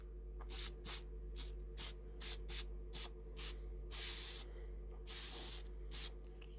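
Spray glue sprayed onto scratch-built model hedges and river banks made from sawdust and old Christmas decorations, in a series of about ten short, sharp hissing bursts with brief pauses and one longer spray.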